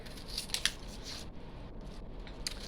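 Onions being cut into big chunky pieces on a board, with a few quiet crisp slicing crunches over a low background hum, close and faint.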